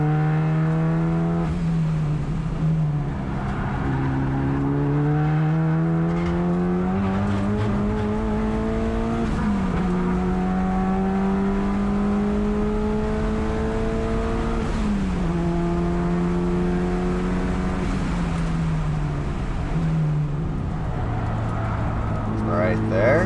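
A turbocharged Mitsubishi Evolution with a 5-speed gearbox is driven hard around Thunder Hill East, its engine note droning loud and close, rising and dipping through gear changes and corners for the whole stretch.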